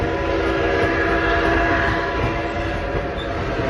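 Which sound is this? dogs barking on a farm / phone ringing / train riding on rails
train riding on rails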